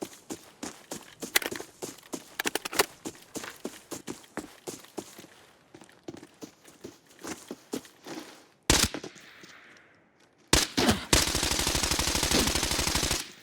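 Hip-fire gunfire in Arena Breakout: Infinite, rapid sharp bursts and single shots interleaved with footsteps, ending in a long sustained automatic burst after short pauses; loud and close.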